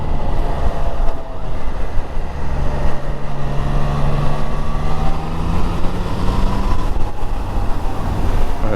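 Triumph Trident 660 three-cylinder motorcycle rolling on the throttle in fifth gear, a loud continuous engine drone that rises steadily in pitch as the bike accelerates, mixed with heavy wind rush.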